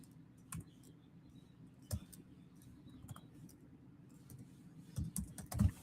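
Keys clack on a computer keyboard in scattered, uneven taps, quiet and close in a hushed room, with a denser cluster of louder strokes near the end.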